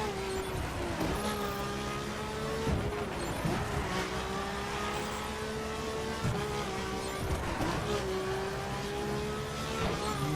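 A Ferrari in the racing game The Crew runs on wet roads, its engine droning steadily with repeated rises and dips in pitch as it revs and shifts, loud and continuous throughout.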